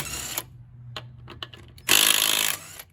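A power tool whirs in short bursts, then a louder sustained run of about a second, close by, with no talking, during a front wheel hub swap on a 2003 Chevy Silverado 2WD.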